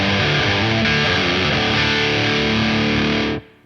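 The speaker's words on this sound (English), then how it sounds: "That's the kind of distortion with a humbucker where it's great for rhythm, it's super thick and defined, saturated, full of gain" An electric guitar with a humbucker pickup plays through a distortion pedal, a thick, saturated, high-gain chord strummed loud and sustained for about three seconds before being cut off abruptly, with no talking.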